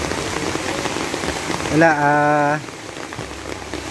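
Heavy rain pours down steadily as a loud, continuous hiss, with a voice briefly speaking partway through.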